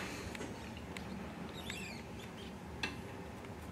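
A handful of brief, high-pitched mouse squeaks scattered over a constant low rumble, with a couple of soft clicks and a small knock near the end.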